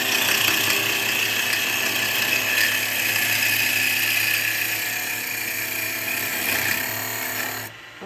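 Wood lathe with a gouge cutting the outside of a bowl, a steady close grinding, buzzing cut running continuously and evenly, then tapering off near the end.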